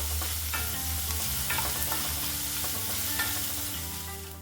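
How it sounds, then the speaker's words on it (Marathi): Chopped onion sautéing until golden for dhaba-style paneer bhurji, a steady close sizzle with repeated scraping stirs of a spatula against the pan throughout, no talk. "कांदा हा थोडासा गोल्डन होईपर्यंत, जास्त पण नाही पण थोडा गोल्डन होईपर्यंत किंवा त्याचा कच्चा पण कमी होईपर्यंत आपल्याला छान असं परतून घ्यायचं आहे"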